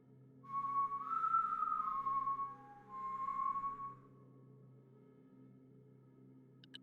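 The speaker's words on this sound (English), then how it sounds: "it lets out almost an exact mirrored copy of that whistle" An eerie, ghostly whistle sounds in two long wavering tones, the first steady then the second shorter and dipping, over a low droning hum that lingers after the whistle fades.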